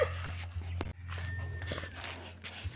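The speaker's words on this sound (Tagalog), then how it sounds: "Matapang na aso na kumakahol." A fierce dog outdoors on a village street gives a few sharp, close barks with whimpering sounds mixed in, over steady low background hum.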